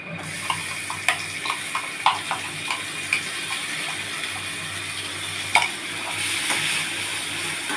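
Coconut, two kinds of mustard, poppy seed, ginger and green chili paste stirred into a pan, with repeated scraping clicks of a spoon over a steady low sizzle, close and moderately loud, and no voices.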